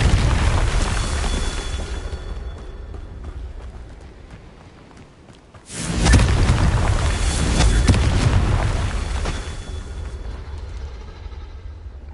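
A Confringo blasting spell explodes in Hogwarts Legacy, a sudden loud boom about halfway through that rumbles on for several seconds after a quieter stretch of game noise.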